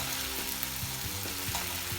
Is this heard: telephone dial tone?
no